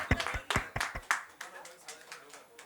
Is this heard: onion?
no